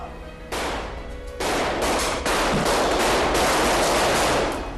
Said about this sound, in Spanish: tras unos momentos de silencio empiezan los disparos